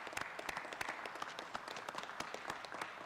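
Council meeting audience gives a steady round of applause for a three-man town cleanup crew, dense clapping throughout at moderate room distance with no talk over it.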